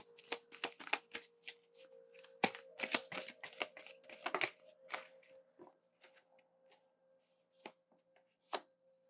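A new, stiff tarot deck being shuffled, with rapid bursts of riffling and card snaps in quick clusters, close and fairly quiet, tapering to a few isolated taps near the end.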